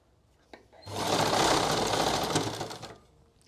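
A sewing machine stitches a pleat into a salwar in one continuous, close, fairly loud run of rapid whirring that lasts about two seconds before stopping, with small clicks just before and after.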